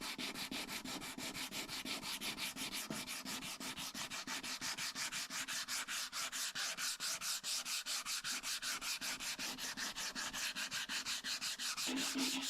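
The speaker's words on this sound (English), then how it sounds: "giving this a scuff sand so that the skirt will be ready for paint" Sandpaper scuffs back and forth across a wooden table skirt to prep it for paint, a fast, even rasping rhythm of short strokes that keeps up steadily throughout, close and moderately quiet.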